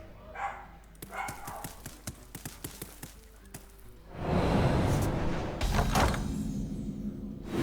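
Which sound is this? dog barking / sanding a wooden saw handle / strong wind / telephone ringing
dog barking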